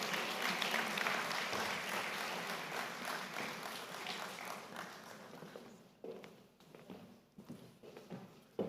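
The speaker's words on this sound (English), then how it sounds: "let's give him a round of applause as he comes." An anniversary celebration crowd gives a round of applause for an arriving Amandebele king, loud clapping that gradually thins into scattered claps and footsteps.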